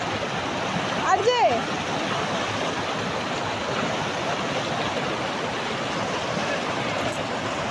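A fast-flowing stream pours over a waterfall in a steady, loud, close wash of rushing water that never lets up, with a brief voice cutting through early on.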